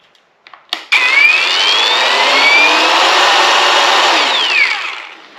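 A DeWalt 20-volt battery-powered cutter for corrugated roofing metal gives a few clicks as it is handled, then whirs up into a loud, steady high-pitched motor whine that holds for about four seconds before spinning down, with no voices.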